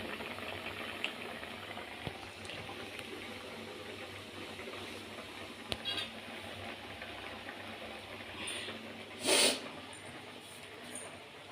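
A pot of crab curry boils steadily with a low, even bubbling hiss, fairly faint, and a brief louder burst of steam near the end.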